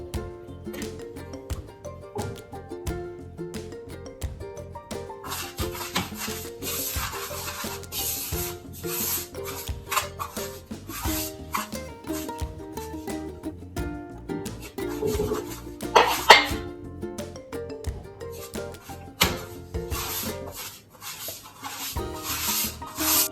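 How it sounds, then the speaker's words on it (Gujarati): Hands knead flour dough made with beetroot puree, salt, ajwain and oil in soft, rhythmic rubbing and pressing sounds, with background music playing throughout. "હવે આપણે બીટની પ્યુરીથી લોટ બાંધશું"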